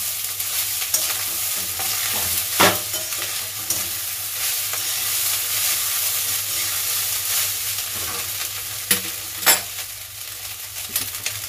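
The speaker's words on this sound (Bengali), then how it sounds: "প্রথমে দিয়ে দিলাম ডিমগুলো, তারপরে দিয়ে দেবো এই যে চিকেনগুলো দিয়ে এবার ভালো করে নাড়াবো, এটাকে মেশাবো সব কটাকে।" Fried rice with eggs and chicken is stirred in a hot pan, a steady sizzle and hiss running throughout with a few sharper scraping knocks of the spatula, close and moderately loud, no talking.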